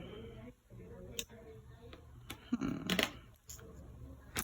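Tarot cards being shuffled at close range, giving soft rustling and riffling bursts with a denser flurry near the middle, plus a few sharp taps and clicks.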